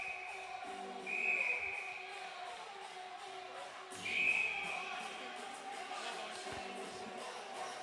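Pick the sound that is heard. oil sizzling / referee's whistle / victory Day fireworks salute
referee's whistle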